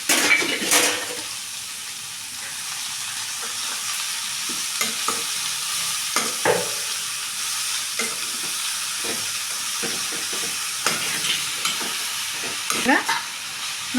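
Cooked leafy greens being mashed in a pot for a greens-and-dal dish, heard as steady wet churning and scraping with scattered sharp knocks against the pot. The sound is close and continuous, with no talk.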